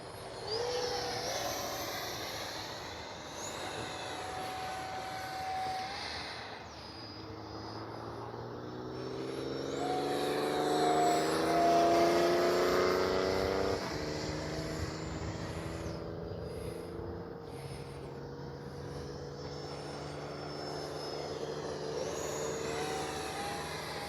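Arrows Avanti S 50mm RC park jet flying overhead, its ducted-fan whine rising and falling in pitch as it passes near and far, loudest midway, with no talk.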